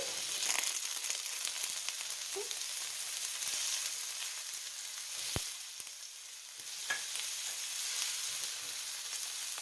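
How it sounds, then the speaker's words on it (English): Garlic and green onion sautéing in coconut oil in a pan, a steady broadband sizzle and fry with a few soft utensil clicks and stirring scrapes, close and continuous with no talking. "So we'll saute the garlic and the green onion for about 1 to 2 minutes."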